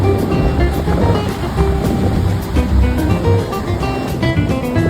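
Ocean waves wash onto a beach in Rio de Janeiro, a steady loud roar of surf with wind buffeting the microphone and no voices.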